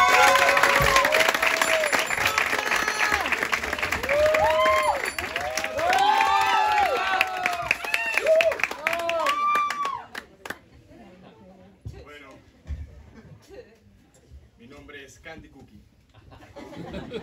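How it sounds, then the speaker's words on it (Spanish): Applause and cheering at an audition, a lively crowd clapping with whoops and laughter for about ten seconds, then dropping away to a quiet room with scattered voices. "¡Aplausos! ¡Aplausos!"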